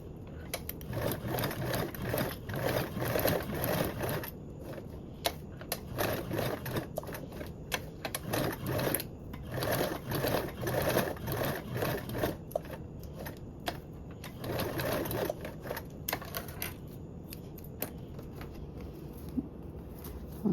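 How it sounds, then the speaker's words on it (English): A sewing machine bastes a seam with an eighth-inch allowance on a toiletry bag, running in bursts of rapid stitching with short pauses between runs, close and clear. "Now you can baste around this with a 1/8 seam allowance."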